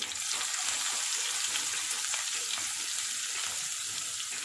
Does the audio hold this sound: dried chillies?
yes